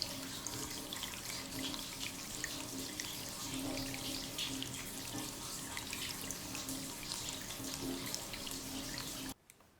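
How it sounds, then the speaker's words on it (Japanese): Hot spring water pours steadily into a hinoki wood open-air bath at a Japanese onsen, a continuous close splashing stream striking the floor, cutting off abruptly at the end. "湯が床を打つ音が聞こえています。"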